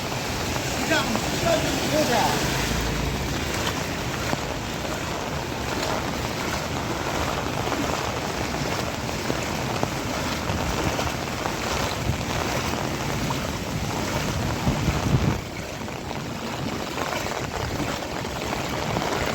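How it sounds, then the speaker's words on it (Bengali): Steady rain easing over a flooded street during a storm, a dense continuous wash of water noise with splashing, constant and fairly loud throughout, with no clear voices standing out. "এখন বৃষ্টি কিছুটা হালকা হয়ে আসছে জল রাস্তাতে জল ভর্তি"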